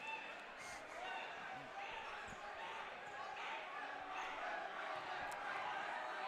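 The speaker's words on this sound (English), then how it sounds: "Crowd trying to get him to miss here" Gym crowd at a varsity boys high school basketball game against Mountain Vista makes a steady roar during a free throw, with ball bounces mixed in under the din.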